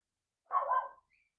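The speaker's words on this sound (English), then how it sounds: "Somebody's dog heard outside?" A dog barks outside, one short, muffled bark from some distance, heard alone in an otherwise quiet indoor room.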